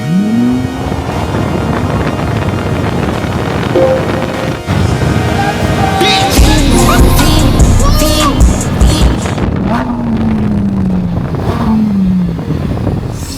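Tesla Cybertruck and Lamborghini STO accelerating side by side in a race, a loud sustained engine and road roar with rising pitch sweeps and wind buffeting, growing busier midway as the cars pull away.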